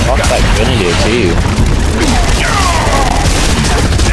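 A loud grenade blast rumbles in Gears of War 3 amid a continuous roar of battle, with booms and crashing debris filling the scene while people talk over it.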